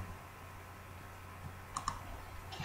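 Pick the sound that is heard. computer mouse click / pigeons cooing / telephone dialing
computer mouse click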